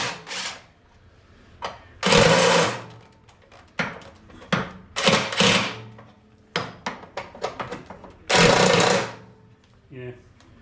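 Power wrench pulling a part off a Honda HS928 snowblower gearcase, several short loud bursts of impact rattling, close, separated by pauses and small clanks.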